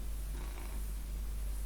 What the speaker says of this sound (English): Do you like the sound of the cat purring?